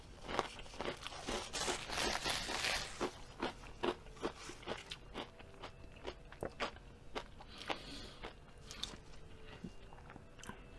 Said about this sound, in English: It's nice and crunchy. We're gonna want to get a bite in.